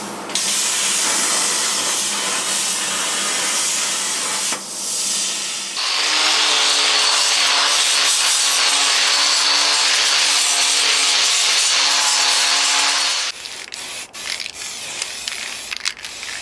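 A CNC plasma cutter slicing out a large steam wagon part on a cutting table, giving a steady loud hissing roar with a tonal hum in the middle section, ending in rougher clattering noise.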